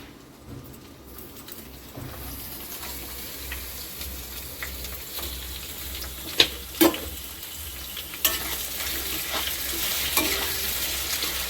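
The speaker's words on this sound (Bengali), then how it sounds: "পেঁয়াজগুলো দিতে থাকি।" Sliced onions, fried earlier, tipped into hot oil already seasoned with sugar, bay leaves and dried chillies, sizzling steadily while a spatula scrapes and stirs, with a few sharp clatters partway through and no talking.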